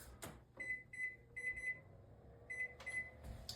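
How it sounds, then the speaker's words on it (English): Kitchen timer being set for 20 minutes while cookies bake: a series of short, clear electronic beeps in small groups, near and moderately loud over quiet kitchen background, with a few soft clicks between them. "Set a timer for 20 minutes."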